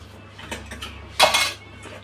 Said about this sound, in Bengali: কড়াটা বসিয়ে দিয়েছি।